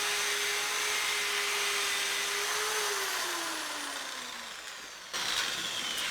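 A steady motorized whirring with abrasive hissing as a drill spins a metal jaw harp frame against sandpaper, pitch sagging slightly midway, then a brief bump near the end; no talking.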